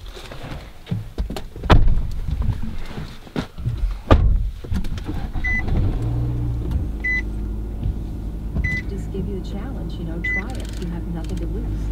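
Inside a car setting off on a long road trip, with engine and road rumble building steadily after a few door and window thumps, plus repeated short electronic chimes, like a seatbelt warning.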